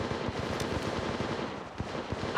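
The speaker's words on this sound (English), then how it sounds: "They're shooting at me!" Rapid automatic gunfire rattles in bursts during an Apex Legends Mobile battle royale match, dense and close with overlapping shots and no clear talking.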